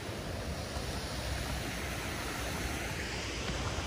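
Heavy runoff pours over a waterfall on Grout Creek, a tributary filling Big Bear Lake, California, in the rain: a dense, steady roar of rushing water, close and unbroken, with no voices.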